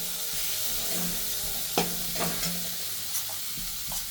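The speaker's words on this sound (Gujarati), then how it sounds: "ઘીમાં આપણે આ માવાને શેકી લઈશું બરાબર" Mawa is stirred and roasted in ghee for gundar pak, a steady sizzle of frying filling the pan while a spoon scrapes and knocks against it now and then.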